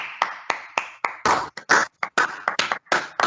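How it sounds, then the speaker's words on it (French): Audience applause for Idriss Aberkane at a conference, a dense stretch of hand claps in uneven bursts, moderately loud and close, with brief gaps between volleys and no talk over it. "on va faire des applaudissements avec un sourire magnifique à Idriss Aberkane"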